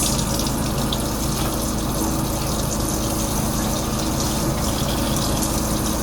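Tap water runs steadily into a sink during surgical-style hand washing, a continuous broadband gush that holds at an even level for the whole stretch with no talking.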